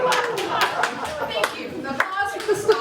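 Scattered clapping from a small group for a stock photo model, individual hand claps sounding unevenly, with voices and chatter mixed in throughout.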